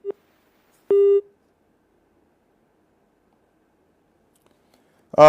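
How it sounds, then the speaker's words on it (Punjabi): Telephone busy signal on a dropped call during a live phone-in: two separate electronic tones, one short and one longer, sound over near silence before a voice begins at the very end. "ਉਹਨਾਂ ਦਾ ਫੋਨ ਕੱਟ ਗਿਆ ਕਿ ਲਗਾਤਾਰ ਫੋਨ ਚੱਲਣ ਦੇ ਕਰਕੇ ਕੁਝ ਫੋਨ ਵਿੱਚ ਬੀਜ਼ੀ ਵੀ ਆਉਂਦੇ ਆ"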